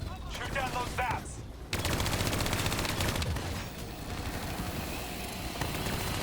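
Gunfire in Call of Duty Black Ops 3: dense machine-gun bursts and rapid shots, loud and close, over game effects and a brief voice early on.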